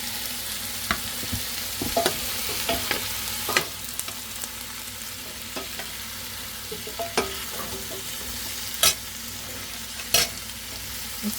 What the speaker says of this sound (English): And I'm going to add the squash.